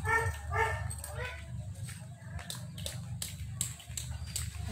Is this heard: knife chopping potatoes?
no